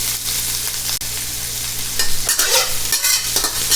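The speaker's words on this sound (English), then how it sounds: "You just want to cook the shrimp until it's no longer pink." Shrimp frying in a hot pan, a steady close sizzle with a brief dip in the first second, then louder crackling bursts over the last half.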